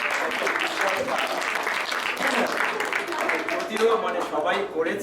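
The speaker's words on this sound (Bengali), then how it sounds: "অদিতিকে আরেকটা জোরে হাততালি দিয়ে" An audience at a community fair applauds in a steady, fairly loud wash of clapping that lasts several seconds, with a person starting to talk over it near the end.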